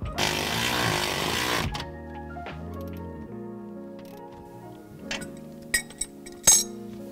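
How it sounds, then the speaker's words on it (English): Coilover suspension bolts are tightened on a 2015-and-later Dodge Challenger: a brief burst of broad mechanical noise, then scattered close metallic clinks and taps from the tools, with no talk. "Once that's in, just go ahead and tighten everything."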